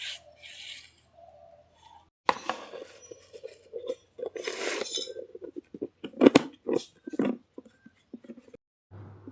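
Tin tiffin-box containers clink and scrape as dried jute leaves are packed away in a home kitchen, with sparse, irregular metallic knocks and rubbing and quiet gaps between them.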